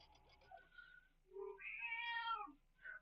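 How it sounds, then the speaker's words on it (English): A house cat meows several times at close range, a series of rising and falling calls with short gaps between them, heard alone with no talking. "I need to attend to a cat."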